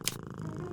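A cat in the Deponia game purring in a soft, steady rumble, close and brief, opened by a short hiss-like burst.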